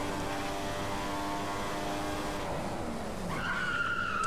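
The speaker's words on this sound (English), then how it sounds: "it didn't take long for the car to be locking up" Car tyres skidding under locked brakes in the F1 2015 racing game, a loud sustained screech over engine noise that sweeps down then flips to a high whine as the car spins.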